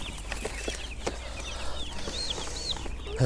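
Young American Bronze turkey chicks peep in quick, faint high chirps, scattered through a soft background murmur, ending in a sudden louder noise.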